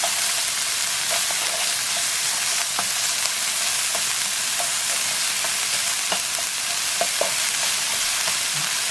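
Onion softening in a hot pan for Halloween monster burgers gives a steady, dense sizzle and crackle, close and fairly loud, with faint scattered pops and scrapes and no talking.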